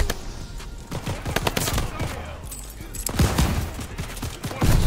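Rapid blasts of dual shotguns in Call of Duty, a dense run of loud, close gunfire bursts with irregular rhythm and a heavy volley near the end.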